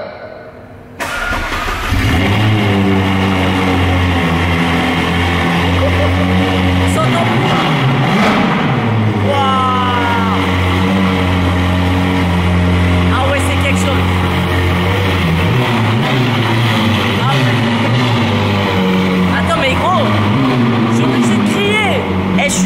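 A tuned Ferrari engine cranks and fires, then idles loudly with a deep, steady rumble and several sharp revs rising and falling over about twenty seconds, close by, with voices talking underneath.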